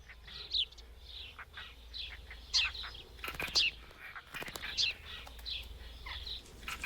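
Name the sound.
sparrows chirping at nesting holes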